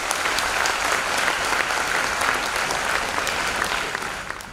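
Students in a large convention audience applaud steadily, a dense, loud wash of clapping sustained throughout and tapering slightly at the end.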